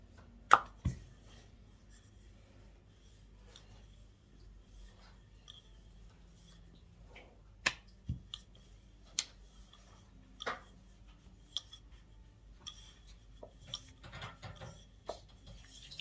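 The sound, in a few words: rolling out samosa dough into oval shape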